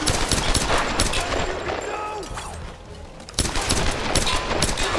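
Rapid bursts of gunfire in the video game Tomb Raider (2013), loud and dense automatic fire with sharp shots, briefly pausing midway before resuming, with a voice talking over it.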